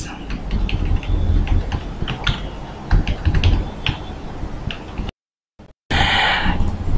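Names being typed on a computer keyboard: rapid, close, irregular key clicks in bursts, with a brief silent gap near the end before the room tone returns.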